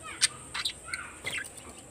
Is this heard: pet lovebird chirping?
yes